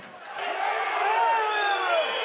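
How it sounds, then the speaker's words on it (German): Football spectators at an Oberliga match between Eintracht Trier and TuS Mechtersheim shout and jeer in protest after a handball call, a sustained crowd roar with rising whistles and yells that swells and holds over a couple of seconds. "hier regen sich die Zuschauer mächtig auf"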